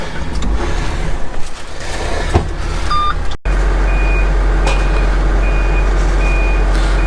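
A boom truck reverses along a narrow track lined with trees, its backup alarm beeping in a steady, evenly spaced series over a loud engine drone after a brief cut, with no talking.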